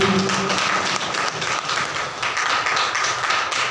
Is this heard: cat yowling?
no